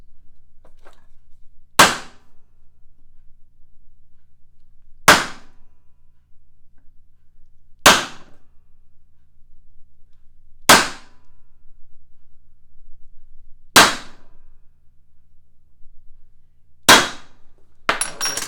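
A MetalPro ironworker's punch station drives holes through quarter-inch steel bar: six sharp, loud metallic clangs spaced roughly every three seconds, each ringing briefly over a quiet hum, with no talking.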